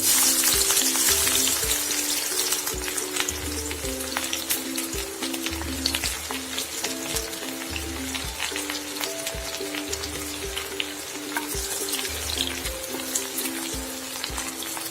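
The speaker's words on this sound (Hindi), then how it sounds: "इसमें हम प्याज फ्राई करेंगे" Onions sizzle and crackle in hot oil while frying for mutton haleem, a continuous close frying hiss with occasional pops and faint low clatter, no talking.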